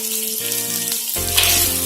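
Onion and capsicum frying in a pan for chana chilli, a loud close sizzle with steady tonal hum from nearby equipment and a lower drone entering midway.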